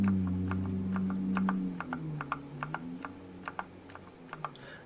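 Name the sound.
mechanical keyboard with linear red switches being pressed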